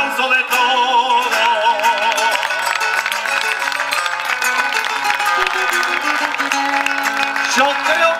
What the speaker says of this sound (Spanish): quiero el aplauso de todos